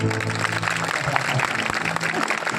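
A church congregation claps together at an Odia sermon, a dense, steady patter of many hands filling the space, with faint voices mixed in.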